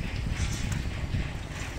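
Steady low rumble of a boat moving on the Buriganga River toward Sadarghat, with wind buffeting the microphone, continuous and close.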